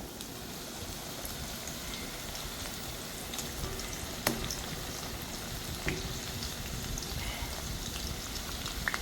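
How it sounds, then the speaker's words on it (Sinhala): Large slices of bitter gourd fry in a pan, giving a steady, dense crackling sizzle like light rain throughout, with a couple of sharper pops, heard alone at moderate level. "මම කිව්වේ ලොකුවට කපපු පෙති ටික ඉස්සෙල්ලා බදිනවා"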